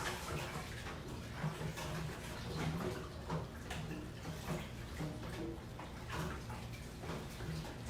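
Water runs steadily from a kitchen tap as used dishes are washed during meal prep, a continuous close splashing hiss with faint clinks and knocks mixed in.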